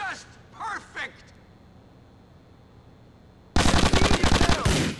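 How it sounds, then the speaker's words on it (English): Automatic gunfire bursts loudly from 3.5 s to the end in a GTA: The Ballad of Gay Tony shootout, rapid and dense. Before it come a few short voiced groans or shouts over a low game background hum. "Keep shooting."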